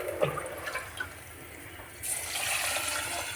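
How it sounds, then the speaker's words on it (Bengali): Water poured into a rohu fish curry cooking in a pan, a short splashing pour after a few light taps, rising into a sustained, fairly close liquid rush over the final second, with no voices. "জল হ্যাঁ, দিয়ে দিলাম"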